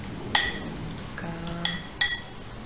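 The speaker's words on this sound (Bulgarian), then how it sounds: "Разбиваме яйцата." Eggs cracked on a bowl rim for pancake batter: three sharp, bright taps spaced apart, close and clear over faint kitchen room noise, with no talking.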